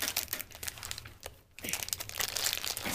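Plastic blind bag packaging is cut open with scissors, producing close, irregular crinkling and crunching of thin wrapper with a brief pause midway.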